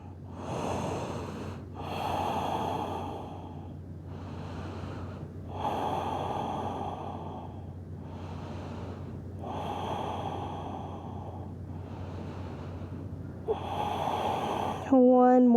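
Slow, deep breaths during a yoga child's pose for easing period cramps: long, airy inhales and exhales repeat in a steady rhythm over a low, constant hum, close and clear.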